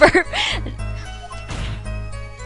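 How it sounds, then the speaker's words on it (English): Wall-smashing sound effect from the video game Apollo Justice: Ace Attorney, a loud crash at the start and another heavy thud about a second later, with game music and tones underneath. "Wall smashing."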